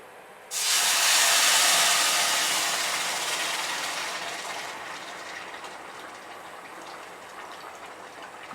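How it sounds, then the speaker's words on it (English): A sudden loud sizzling hiss bursts out as rice is poured into boiling water, then slowly fades into a steady, softer bubbling simmer. "it's going to sploosh and sizzle and bubble as soon as I pop this in"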